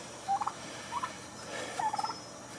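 Several short bursts of turkey gobbling from toms, a few seconds apart, moderately close, with a faint outdoor background and no talking.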